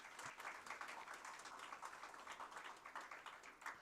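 A board of education meeting audience applauds board members: dense, even clapping from a crowd, heard faint and distant, sustained throughout without speech.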